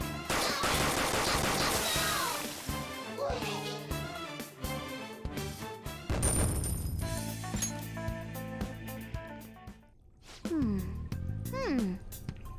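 Gunfire during a Persona 5 Royal battle: rapid bursts of shots mixed with game music and effects, with a voice talking over it now and then.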